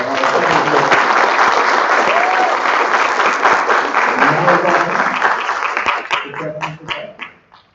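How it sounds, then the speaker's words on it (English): Audience members at a literary festival talk break into loud, dense applause that holds steady, then thins and fades away over the last couple of seconds. "How about another round of applause for"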